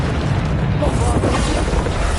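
A Bombarda spell blast in the Hogwarts Legacy video game makes a loud, dense boom that fills the short stretch, a continuous roar of low rumble and crackle with no clear gap.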